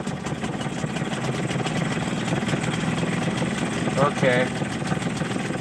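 A Hangkai 6hp two-stroke outboard engine with a rebuilt carburetor idles with a steady, buzzing drone that continues throughout while the carburetor runs dry, and a person briefly speaks over it.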